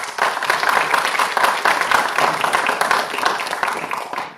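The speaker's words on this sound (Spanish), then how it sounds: "Lo recibimos con fuertes aplausos." A seated audience gives steady, fairly loud applause welcoming a scientist to the podium for a lecture on El Niño and its climate effects in Peru, dense clapping that holds for several seconds before tapering off.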